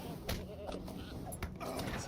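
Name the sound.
goat bleating in the LOTRO video game fight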